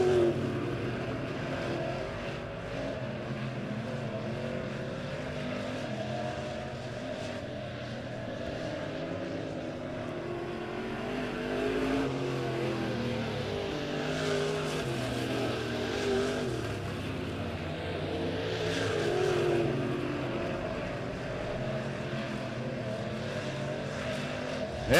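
Race cars circling the Bolivar Speedway oval, engines roaring and swelling as the field passes and fading as it moves away down the track, with faint voices in the background.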